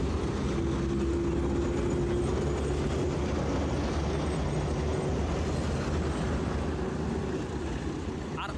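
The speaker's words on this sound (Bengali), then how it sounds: "বড়ইতলা রেলওয়ে স্টেশন থেকে ঢাকার উদ্দেশ্যে ছেড়ে যাচ্ছে ঢাকাগামী নারায়ণগঞ্জ কমিউটার" A Dhaka-bound Narayanganj Commuter train pulls out of Boraitola railway station, its steady loud rumble of wheels and engine continuous throughout, with a faint horn-like tone early on.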